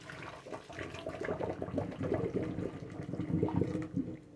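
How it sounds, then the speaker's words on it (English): Hot water pours out of a pot that held boiled eggs, a steady splashing gush into a sink that lasts the whole stretch at close range. "Empty out the hot water."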